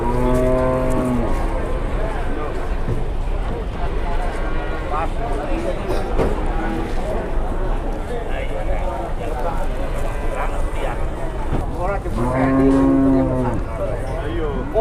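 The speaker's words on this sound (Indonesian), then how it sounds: "Ternyata ini sapinya lembu seto ya teman-teman." Jumbo Lembu Seto cattle moo loudly and close after coming down from a truck, with one long low call at the start and another near the end, amid steady outdoor noise and people talking.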